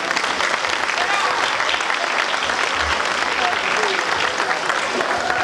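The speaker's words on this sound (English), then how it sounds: "I'd like to give a round of applause to our superintendent of schools, Mr. Ronder, Mr. Gerber." Loud, continuous applause from an audience at a school ceremony, dense and even for several seconds, with faint voices mixed underneath.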